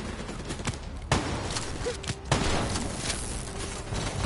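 Gunfire rattles through a Call of Duty 3 campaign battle, with scattered distant shots and two sharper close reports over a dense, noisy wash of combat ambience.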